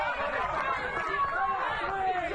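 A baseball crowd at a college game calls out toward the batter, a murmur of many voices under close commentary from an announcer.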